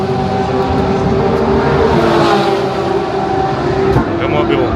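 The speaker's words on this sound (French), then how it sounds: "Bon là c'est les GT3 du coup ça fait un bruit de malade mental, c'est ouf." GT3 race cars such as Ferrari, Porsche, Audi, BMW and McLaren at a GT race meeting, with loud, continuous engine roar and a steady droning tone, and voices faintly in the background.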